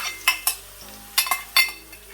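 Hot pepper tossed into a pot of Trini curry chicken with scallion, bringing a handful of sharp clinks and scrapes of a utensil against the pot, close and crisp, over a light sizzle, with no voices.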